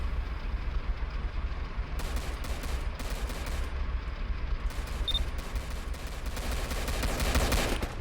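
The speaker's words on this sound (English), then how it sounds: "Oh, shots fired from that purple van too." Gunfire in a Roblox police patrol game, heard as rapid bursts of crisp, clicky shots spread through the clip over a steady low engine rumble, with no one speaking.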